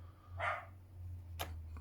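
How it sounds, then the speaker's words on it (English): A dog gives a single mid-range bark, followed about a second later by a sharper second yelp, with a steady low hum running throughout. "I hope they've stopped barking"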